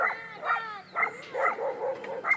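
A pet dog barks repeatedly at a visitor arriving at a boarding house, a string of sharp, close barks with short gaps between them and no talk over them.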